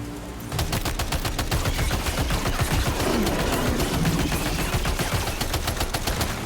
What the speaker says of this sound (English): I'm shooting the damn wall.